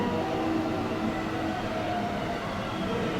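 A JR West Biwako Line train rumbles steadily at a station platform, with a continuous, fairly quiet roar of wheels and motors.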